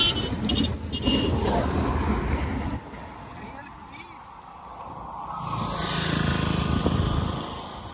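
Motorcycle ridden on a highway trip from Dharashiv to Pune, engine rumble and road noise running steadily throughout with wind buffeting, a brief dip midway, while a person talks over it.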